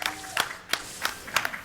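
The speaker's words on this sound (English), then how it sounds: "round of applause for that one" An audience at a Star Wars: The Force Unleashed 2 speedrun charity event claps in scattered bursts, several sharp rounds of applause spaced across the moment, mixed with voices talking over it.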